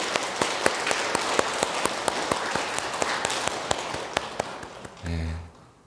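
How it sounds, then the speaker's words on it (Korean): A church congregation at a year-end Mass on New Year's Eve bursts into a dense round of applause, many hands clapping fast and close, fading out at the end as a voice starts. "여러분 모두 박수 치겠습니다"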